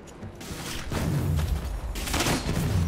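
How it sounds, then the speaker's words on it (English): Loud gunfire in a video game shootout, a heavy burst near the start and another around two seconds in, close and booming with little pause between. "I'm taking fire"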